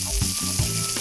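Chopped onion dropped into hot oil with spattering cumin seeds sizzles loudly in a pan for Pongal dishes, with a steady frying hiss and a few brief stirring bumps, no talking.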